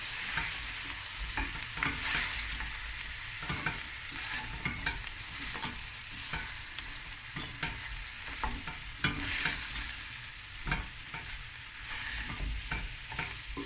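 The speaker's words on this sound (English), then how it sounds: "Just fry that spices a bit." Spices frying in a pan for a creamy lamb knuckle curry with coconut milk, a steady bright sizzle with soft scraping stirs throughout, fairly close and continuous with no voices.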